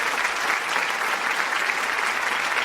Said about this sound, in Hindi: सभी लोग तालियां बजाते हैं।